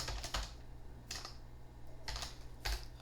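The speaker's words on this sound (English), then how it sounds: "I have a little bit of trouble typing that" Keys clatter on a computer keyboard in short bursts of quick taps separated by brief pauses, close and fairly quiet, with no voices.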